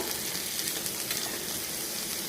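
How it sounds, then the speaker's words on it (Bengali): Pointed gourd (potol) fries in a pan of oil, giving a steady, even sizzle close by, with no pauses or talking. "দেখো বন্ধুরা, আমি পটল ভাজছি।"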